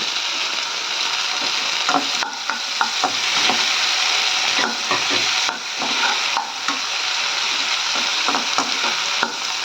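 Chopped onions and tomatoes fry and sizzle in a pan for capsicum potato thokku, with a steady hiss broken by repeated scraping stirs of a spoon against the pan, close and fairly loud, no talking.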